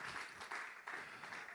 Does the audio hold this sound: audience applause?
yes